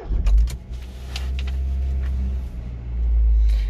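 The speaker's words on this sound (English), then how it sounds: "We'll start the car up." A 2012 Hyundai i10 1.2 engine cranks and catches. A strong low rumble swells at the start, then settles into a steady idle with brief clicks on top, and the revs rise again near the end. Close up, with no talk.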